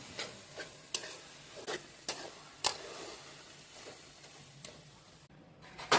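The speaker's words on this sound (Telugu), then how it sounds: "ఆయిల్ హీట్ ఎక్కిన తర్వాత పప్పు దినుసులు అయితే వేసేసుకున్నాము" Lentils fry in hot oil in a pan for Andhra-style gongura pickle: a soft, close sizzle broken by regular sharp taps and clicks of stirring, with no speech.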